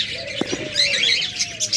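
A master pair of lovebirds gives a few short, bright chirps and tweets close by, with faint squeaks and soft background chatter from other birds around them.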